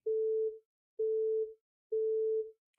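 A synthesizer lead patch built in LMMS and played with no filters, sounding as three identical sustained tones of about half a second each, evenly spaced with short silences between, clean and alone.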